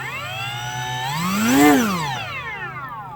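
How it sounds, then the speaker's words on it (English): A small RC airplane engine revs in one quick throttle blip, its whine rising sharply then falling back to a steady idle, loud and close with no talking. "Give the throttle a quick blip."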